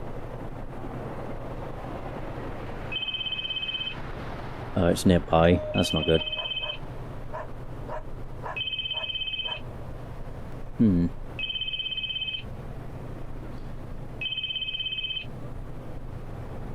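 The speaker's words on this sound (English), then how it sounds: "Oh, I hear the ringing." Phone ringtone ringing in the Spirit Hunter NG video game, a repeated high electronic trill in regular bursts with pauses between them, while someone talks over parts of it and a brief rattling noise intrudes.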